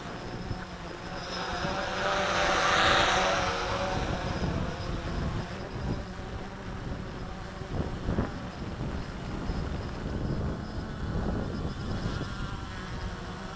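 A WLToys V303 GPS quadcopter drone flying outdoors, a faint buzzing whine that swells and fades, mixed with gusty wind rumble on the microphone.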